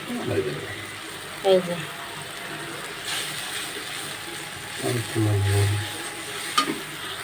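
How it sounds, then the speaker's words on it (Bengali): Chili, coriander and cumin powder fry in a pan with a low sizzle, punctuated by occasional scrapes and clatters of stirring, while a voice talks faintly in the background. "এই যে বন্ধুরা দেখেন মশলাটা কষানো হয়ে গিয়েছে"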